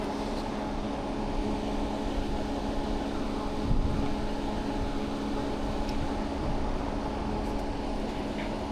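A car engine idling steadily nearby, a low continuous hum with a faint tonal drone, left running throughout, with no talk over it.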